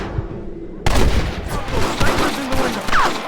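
Gunfire in the video game Red Dead Redemption erupts suddenly after a quiet moment, a dense fusillade of rapid shots and booming reports with shouting voices mixed in, loud and chaotic.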